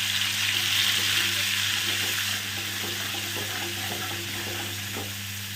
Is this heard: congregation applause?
no